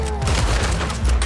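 Rapid gunfire in the video game Red Dead Redemption 2, a dense, loud burst of overlapping shots filling the moment with no gaps.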